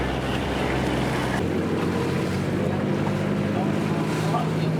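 An island-hopping tour boat crosses the sea around El Nido in the Philippines, its engine droning steadily amid wind and splashing water, with a voice talking over the constant noise.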